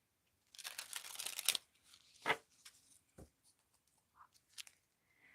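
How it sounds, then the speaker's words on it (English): Tarot cards being shuffled by hand during a live card reading: several quick riffling and flapping bursts, then scattered soft taps and slides of the cards, close and quiet, with no speech. "Uh, let's shuffle these up. Shuffle, shuffle."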